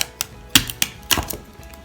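Tape is stuck and pressed onto a homemade paper crown, making sharp close taps and crinkly bursts in a short irregular run with no talking.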